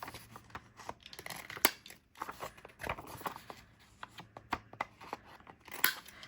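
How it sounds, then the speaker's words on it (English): Quiet crafting sounds of an envelope punch board cutting slots into a paper edge for a vintage junk journal, a series of soft clicks, snips and rustles spaced irregularly at close range. "Want to punch also the edge to give it slots, and we're going to use our envelope punch board."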